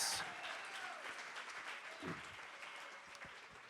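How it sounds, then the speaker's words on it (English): An audience applauds at a celebration event, a dense, even wash of clapping that holds steady throughout, with a faint voice briefly rising near the middle. "a big round of applause"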